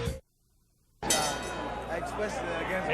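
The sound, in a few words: boxing bell ringing to start the round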